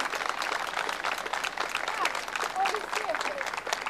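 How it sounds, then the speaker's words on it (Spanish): Applause from a gathering honoring nurses working through the COVID pandemic, steady dense clapping throughout with a few voices and whoops rising over it. "un fuerte aplauso por todos los enfermeros que estamos trabajando en este momento"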